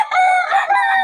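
A rooster crows once, loud and close, among chickens for sale at a poultry market in Bocaue, with no talking.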